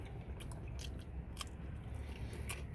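Someone biting into and chewing a crunchy, crusty thin-crust old-world pizza up close, with scattered crisp crunches over a low, steady room background.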